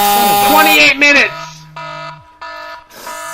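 A harsh electronic buzzer blares loudly, a sustained tone that stops and repeats in short bursts after an opening stretch of louder mixed sound.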